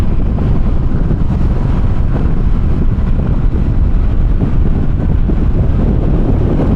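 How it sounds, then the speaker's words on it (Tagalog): Loud, constant wind roar buffets the microphone, a dense low rumble with no pauses, while riding an FKM Express 500 Racer motorcycle at speed. "damang-dama mo talaga yung hangin"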